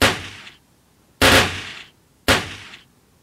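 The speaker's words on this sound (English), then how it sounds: "The gem deflected his bullet." Three loud, sharp gunshots ring out in a video game, evenly spaced about a second apart, each a close, bright blast with a short metallic decay and no talk.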